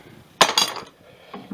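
Metal sockets and a 1/2-inch ratchet from an old toolbox clink together while being handled, one sharp jangle close by and then a faint knock, with no talking.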